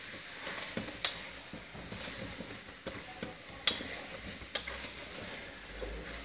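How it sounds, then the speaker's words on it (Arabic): Carrots, turnips and tomatoes frying in a pan for harira, a steady soft sizzle with a few sharp clinks of stirring, quiet and close, no voices. "ونخلي كل هذه الاشياء راهي تتقلى مليح"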